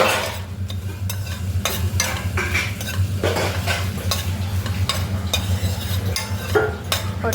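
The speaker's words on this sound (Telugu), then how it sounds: "కలర్ మారే వరకు, ఆటోమేటిక్ కలర్ మారే వరకు వేయించాలి బాగా." Chicken pieces and chillies fry loudly in a pan for a dry fry, a constant sizzle under repeated scraping strokes of a spatula against the metal.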